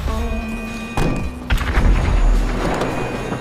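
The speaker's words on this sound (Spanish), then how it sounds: "hay mucha explosión por aquí" Heavy booms and thuds from explosions in GTA V, a deep thump about a second in followed by a louder cluster of rumbling blasts, with a steady hum underneath.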